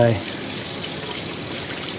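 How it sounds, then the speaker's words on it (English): Hot water gushes from a tap over a kitchen knife, a steady close splashing hiss that runs unbroken for a couple of seconds. "I'll just get some hot water on my knife here"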